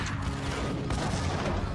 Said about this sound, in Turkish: hala silah sesi geliyor